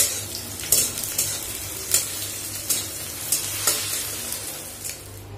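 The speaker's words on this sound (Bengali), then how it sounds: "আর আলুর জন্য পেঁয়াজ লঙ্কা ভালো করে ভেজে নিচ্ছি" Onion and chilli sizzle in a pan under a constant frying hiss, punctuated by regular scraping stirs of a spatula against the metal, close and clear with no speech.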